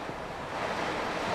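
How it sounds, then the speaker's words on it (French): Strong, swirling headwind at a trotting racecourse in Argentan, with rain, roaring as a steady broadband gust noise with mic buffeting, loud and continuous throughout with no voices. "c'est quand même un vent qui est tourbillonnant, mais vraiment de face"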